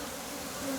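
Agitated weaver bees buzzing around a bumped hive comb, a steady dense drone held close for under a second.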